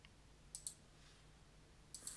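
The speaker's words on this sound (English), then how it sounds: "just clicking refresh" Computer mouse clicks sound faintly in a quiet room, a couple of paired clicks spaced about a second and a half apart.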